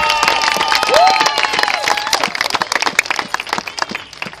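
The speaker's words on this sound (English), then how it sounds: "give the Lord a hand clap of praise" A church congregation bursts into loud, dense hand clapping of praise mixed with cheering voices. The applause stays close and continuous, then breaks into sharper, scattered claps.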